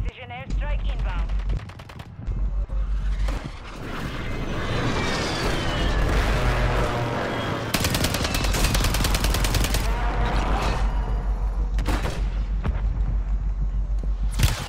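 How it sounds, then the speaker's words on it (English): A precision airstrike in Call of Duty on Rebirth Island: a dense, sustained barrage of rapid gunfire and booming blasts rolling on for many seconds, loud and close, with brief bursts of talk mixed in. "Friendly precision airstrike inbound."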